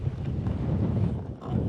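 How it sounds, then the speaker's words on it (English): Wind buffets the microphone hard on the Skye Trail, making a low, rumbling roar that pulses and swells throughout, drowning out everything else. "it's just wind picked up now that I started the camera"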